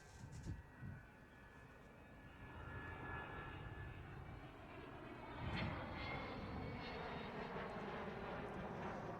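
A jet bomber flies past with its bomb bay open during an airshow display, a distant, fairly faint engine rumble that builds gradually and holds steady, with a brief louder surge midway.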